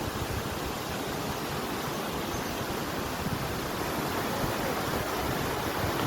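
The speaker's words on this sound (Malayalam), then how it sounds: "ഇവിടെ നല്ല വെള്ളച്ചാട്ടമുണ്ട്." A waterfall on Ananganmala hill near Shoranur in Palakkad district roars as a steady, dense rush of water, loud and continuous throughout with no voices.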